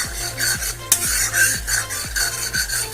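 A fish curry is stirred in a pot after water has been added, the ladle rubbing and scraping in a quick, regular back-and-forth rhythm, close and fairly loud.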